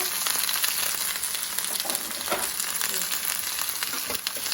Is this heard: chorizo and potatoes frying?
yes